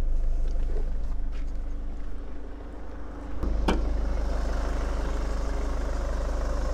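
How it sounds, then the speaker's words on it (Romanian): A 2013 Ford Kuga 2.0 TDCi diesel engine idles steadily up close, a low even rumble, briefly dipping before a sharp clunk, then settling back into the same idle. "Cam așa se prezintă motorul de pe acest model Ford Kuga"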